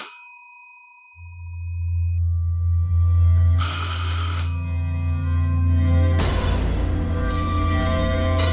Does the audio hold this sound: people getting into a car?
no